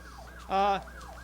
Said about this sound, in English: You can still hear the sirens blaring.